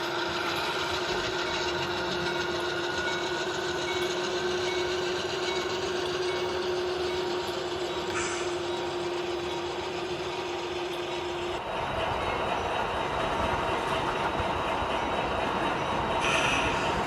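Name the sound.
model freight train running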